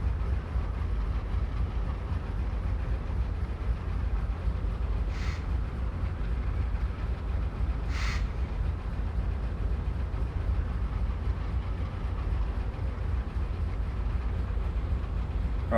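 A Chessie U30C diesel locomotive at high idle in Train Simulator, a steady deep rumbling drone that holds constant throughout, with two brief hissing bursts partway through.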